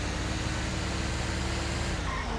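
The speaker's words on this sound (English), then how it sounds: "I can't hear you over the engine." A vehicle engine drones loudly and steadily, a constant low rumble filling the whole moment with no voices over it.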